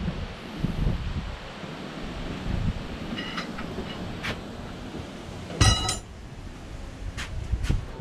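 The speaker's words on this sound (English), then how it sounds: "It's really windy too" Strong wind rushes and buffets steadily outdoors around a semi trailer being converted into a tiny home, with occasional metallic clinks and knocks cutting through the gusts.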